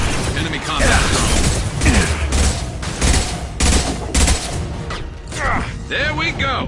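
Rapid gunfire bursts and blasts ring out during combat in the video game Mass Effect 2, loud and dense with mechanical clatter, continuing in near-constant volleys throughout.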